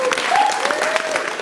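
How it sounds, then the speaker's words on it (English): Brief applause from an audience after a speech, dense clapping heard for a moment beneath a voice. "Give her a round of applause."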